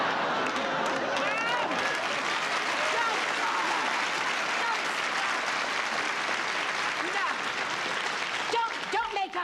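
Studio audience applause at a 1972 stand-up comedy set on a television variety show, a dense sustained clapping that stays loud throughout, with a brief voice near the end.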